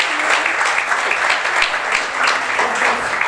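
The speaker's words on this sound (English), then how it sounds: "Give yourselves a big hand" A large, enthusiastic crowd at a quiz event claps loudly in a dense, continuous roar of hands that fills the whole stretch.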